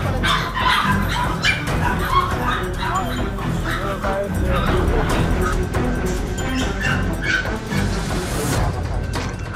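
Many dogs at an illegal breeding site bark, yip and whimper together in a dense, continuous chorus, some close and some farther off, with voices talking faintly in the background.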